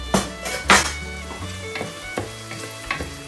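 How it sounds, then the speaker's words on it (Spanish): Chopped onion sizzling in a pot with a few teaspoons of salt, cooking as the base for a chickpea, spinach and salt cod stew; a steady close frying hiss with several sharp clinks and scrapes of stirring. "Le echo dos o tres cucharaditas de sal a la cebolla para que sude bien y se haga bien."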